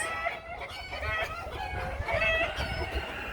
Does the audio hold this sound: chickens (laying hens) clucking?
yes